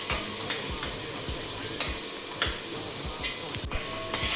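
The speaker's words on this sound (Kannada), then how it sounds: "ಇದು ಚೆನ್ನಾಗಿ ಈ ಥರ ಫ್ರೈ ಮಾಡ್ಕೊಬೇಕು." A green chili, ginger, garlic, mint and coriander paste fries in a pan for egg biryani, giving a steady close sizzle broken by repeated scraping stirs and a few sharper clicks of the spoon against the pan.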